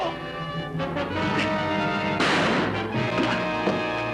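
Smashing crash sound effect in a sci-fi film trailer, a sharp, loud impact burst midway through, set against a dramatic orchestral score with ringing tones before and after.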